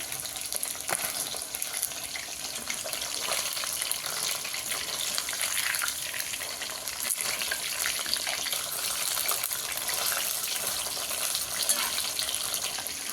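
Food is stirred and sautéed in a pan, producing a constant close hiss and crackle with occasional scraping of the spoon.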